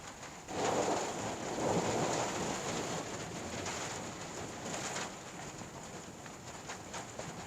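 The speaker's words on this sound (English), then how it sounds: "Still getting some thunder boomers." Monsoon rain falls steadily while a low rumble of thunder rolls in and fades, fairly quiet and distant, with no voices.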